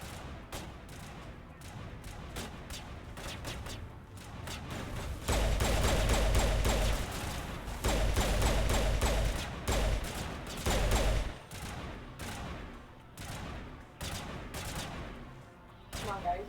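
Enemy gunfire in the video game Mass Effect, bursts of rapid shots and heavy booming volleys that swell loudest in the middle stretch, layered over dense game ambience with a voice talking at times.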